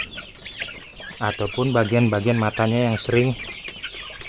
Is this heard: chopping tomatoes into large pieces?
no